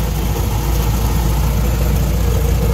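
Steady low engine drone of a Ford Model T cruising in high gear at about 20 mph, a continuous even rumble with road and wind noise, loud and close throughout with no pauses.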